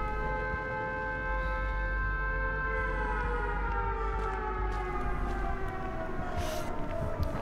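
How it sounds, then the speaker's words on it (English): Wailing sirens in the video game Dead by Daylight, a steady loud rising and falling drone with layered tones gliding in pitch throughout, heard alone without talk. "I don't like the sirens."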